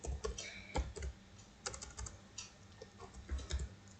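Someone types HTML code on a computer keyboard, producing close, irregular bursts of key clicks with short pauses between runs and no talking.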